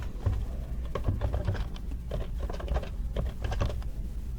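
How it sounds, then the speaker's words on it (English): Fingers type steadily on a computer keyboard while a network address is entered, the keys giving a quick run of close, light clicks with no talk over them. "I just have to type in the address"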